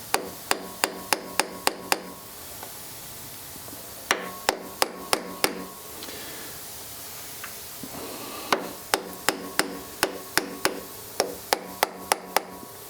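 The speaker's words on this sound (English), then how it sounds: "So let me just give it some taps here." Sharp hammer taps driving a large washer squarely into place, coming in quick bursts of about five to seven evenly spaced strikes with short pauses between groups, close and alone without talk.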